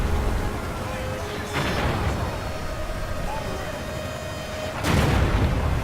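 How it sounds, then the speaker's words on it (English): Bombs dropped by Dwarf gyrocopters in a Total War Warhammer battle against the Empire land as two heavy booming blasts amid constant battle din, with a faint voice talking underneath. "You know, I have bombs dropping."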